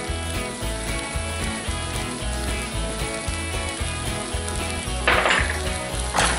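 Scrambled eggs with melted cheese being stirred in a hot pan, giving a steady close sizzle with soft scraping and clicking strokes, getting a little louder near the end.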